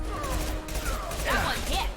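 Enemy gunfire in a Mass Effect 2 combat encounter, a dense volley of distant shots and impacts rumbling under game sound effects for about two seconds.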